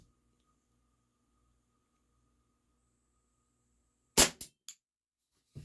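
A WE Tech Bulldog gas blowback airsoft pistol fires after near silence: one sharp loud crack followed quickly by two smaller snaps, then a faint click at the end, close and dry.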